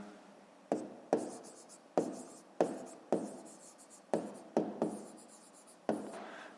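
A pen scratches across paper in a run of short, separate strokes, roughly nine quick bursts spaced unevenly, close and clear with no voices.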